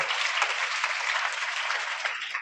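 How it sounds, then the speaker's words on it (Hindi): Audience at a Hindi poetry gathering applauds steadily, a dense, even wash of clapping that stays fairly distant for a few seconds, with no talk over it. "सर के लिए जोरदार ताली है एक बार और"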